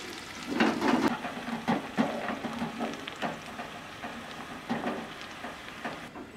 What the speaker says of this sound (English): It's already hot like this, and I just put it in, sizzling, and we cook it until soft.